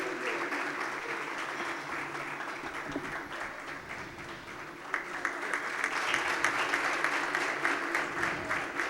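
An audience at a Thursday community thought program in Surat gives loud applause to honour a donor trustee, sustained clapping that swells and grows sharper toward the end, with faint voices underneath.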